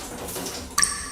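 A shower's water supply cuts out: a soft running-water hiss fades, then a single clear drop falls with a bright ringing ping.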